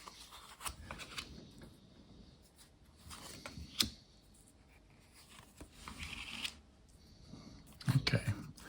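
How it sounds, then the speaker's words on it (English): Cards are shuffled with soft riffling and rustling bursts, close and fairly quiet, with a few sharper taps and handling noises. "Let's have a shuffle."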